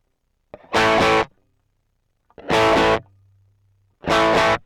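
Electric guitar played through an actual distortion effects pedal sounds out as three loud, gritty chord stabs, each followed by a gap of near silence, with a faint low hum after the second, and no talking.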